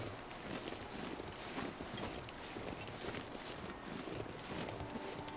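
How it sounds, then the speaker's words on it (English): Steady wind blowing across an open snowy wilderness at night in The Long Dark survival game, a constant broadband whoosh with gentle gusts throughout and no voices. "It's a little windy."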